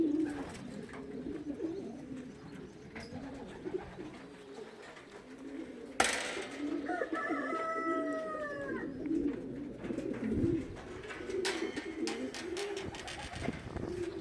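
A racing pigeon back in its loft the day after release coos softly and repeatedly amid other faint bird calls and low background noise, with a sharp knock partway through.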